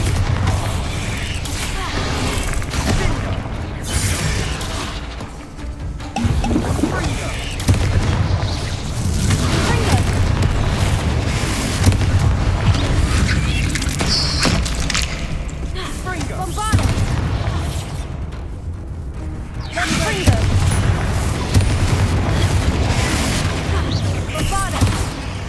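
Bombarda blasting spell explosions in Hogwarts Legacy, a continuous heavy rumble of booms and blasts lasting the whole stretch, dense and loud, with game voices faintly under the din.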